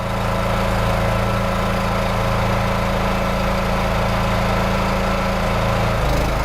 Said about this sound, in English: you can hear the power on the engine change